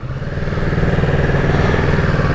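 Kawasaki Z650 motorcycle engine revving close up, a loud, steady throaty drone with rapid pulsing throughout, rising slightly at the start and then holding high.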